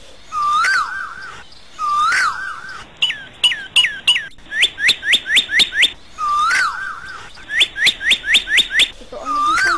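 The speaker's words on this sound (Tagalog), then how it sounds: "Habang naghihintay si Don Diego, narinig niya ang ibong Adarna maawit" The mythical Adarna bird sings as a storytelling sound effect: clear, whistled phrases repeat in bursts, with swooping notes alternating with quick runs of rising chirps, bright and close with short pauses between phrases.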